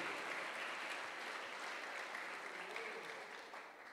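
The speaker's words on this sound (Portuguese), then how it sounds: "É para aplaudir, aplauda ao Senhor Jesus" A church congregation claps during a sermon, a steady, fairly even wash of applause that fades slightly toward the end, with no voices clearly over it.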